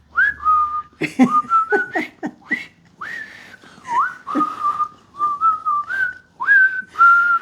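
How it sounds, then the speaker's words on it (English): Someone whistles a lively, wavering tune up close, with quick slides between notes and short pauses between phrases. "enough with the whistling"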